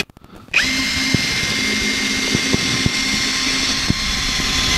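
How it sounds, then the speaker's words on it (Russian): A WOSAI 20V WS-MD13 brushless cordless drill starts up and whines at a steady high pitch close by, biting into thick steel with occasional clicks and knocks as it works. "Сверлим."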